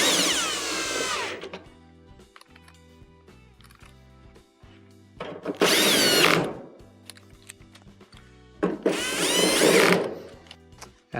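Power drill driving the three screws that hold the back panel of a Whirlpool dryer, heard as three loud, close whirring bursts separated by quieter handling and ratcheting clicks.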